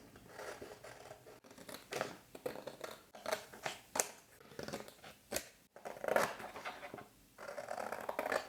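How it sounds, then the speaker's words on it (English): Scissors cut out paper parts for a vintage ephemera box, starting with the base, giving close, repeated snipping and crisp paper rustles in an irregular rhythm with brief pauses and no talk. "So let's start cutting this out, starting with the base."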